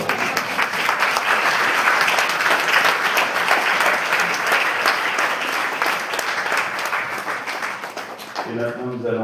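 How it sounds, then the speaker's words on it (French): A church congregation at a confirmation Mass bursts into sustained, dense applause that holds steady for several seconds before fading as a voice begins speaking. "on peut peut-être aussi applaudir le Seigneur qui a fait tout le boulot"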